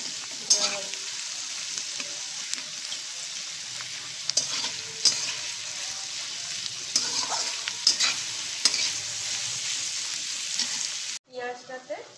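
Onions for biryani fry in a pan with a steady sizzle, broken by scattered clicks and scrapes of stirring, loud and close, before an abrupt cut near the end.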